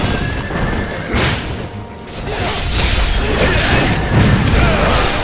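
A horse neighs during a mounted battle in Wo Long: Fallen Dynasty, its whinny rising over dense clashing, whooshing and clattering combat noise that stays loud throughout.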